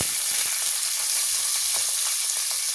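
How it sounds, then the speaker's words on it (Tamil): Green chilies and fennel sauté in sesame oil in a pan, giving a loud, close, continuous sizzle with faint stirring scrapes throughout. No one speaks. "பச்சை மிளகாய் ஆட் பண்ணி இது நல்லா வதக்கிக்கணும்"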